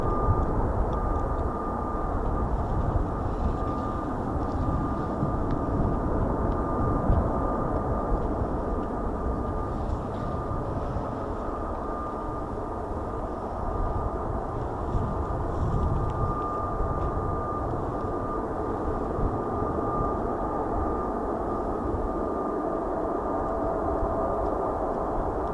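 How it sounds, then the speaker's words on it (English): A distant F-35B stealth fighter jet at a naval air squadron base gives off a continuous low engine roar and rumble with a faint steady whine, holding level for the whole stretch with no voices. "we got F-35 on the move"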